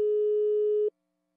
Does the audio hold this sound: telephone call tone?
yes